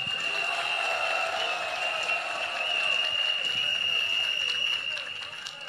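A large crowd at a political rally in Côte d'Ivoire applauds in a dense, steady wash of clapping and cheering, with a sustained high whistle-like tone running through it.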